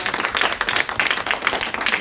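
Audience applause after a theatre-workshop talk, steady close clapping from a small crowd throughout the short stretch with no talk.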